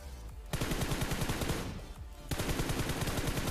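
Rapid automatic gunfire in BGMI (Battlegrounds Mobile India), a solo-versus-squad match: loud, dense bursts of fast shots with two brief pauses between volleys.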